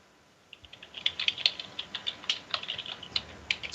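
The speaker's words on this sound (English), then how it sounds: "Somebody typing something?" Computer keyboard keys typed in quick irregular bursts of crisp clicks, fairly close and alone with no talk.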